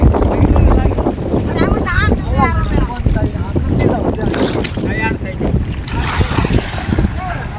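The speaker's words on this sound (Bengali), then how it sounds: "প্রচুর বাতাস আর প্রচুর স্রোত" Strong wind buffets the microphone over a river with a strong current, with a boat's steady rumble, while several voices talk loudly throughout.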